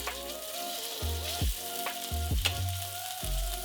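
Pork sears in a pan on a stove over medium-high heat, a close, steady loud sizzle with a low hum and sharp contact bursts as pieces are laid down.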